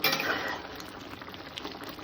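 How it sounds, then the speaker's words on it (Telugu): Chicken bubbling gently in water and yogurt in a pot on a medium flame, a soft continuous simmer with small pops and a brief clink of metal near the start. "ఆ వాటర్ అంతా ఇంకే వరకు మనం సిమ్లోనే పెట్టి వండుకోవాలి"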